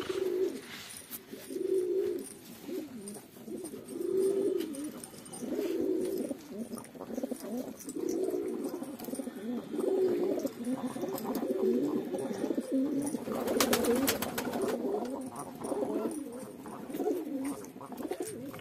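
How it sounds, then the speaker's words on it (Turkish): Pigeons or doves arriving to drink water coo in soft, repeated low phrases close by, a steady murmuring chorus with a few faint chirps mixed in, on a freezing day with snow. "şimdi kuşlar baya bir gelecekler, su içecekler"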